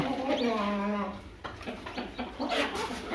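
A young broody hen sitting on eggs for incubation clucks close by in a low, drawn-out tone, followed by rustling while a person talks nearby.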